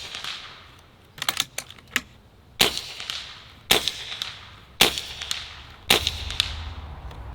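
Six sharp shots from .22 caliber budget air rifles, a Barra 1100z or Beeman Chief, fired at a paper target, each crisp crack spaced about a second apart, some with quick pellet-impact clicks trailing, in a quiet setting.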